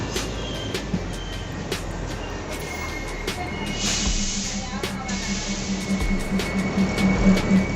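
A passenger train on the Parbhani–Nanded line rumbles into a station, with steady wheel noise, metallic squeals, sharp clanks and a rising low roar, while birds chirp and people talk faintly in the background.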